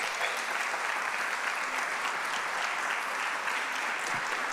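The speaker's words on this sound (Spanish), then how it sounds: "Den un aplauso al Señor por eso." A church congregation applauds steadily and evenly throughout, a dense, continuous wash of many hands clapping with no breaks, sounding fairly close and loud.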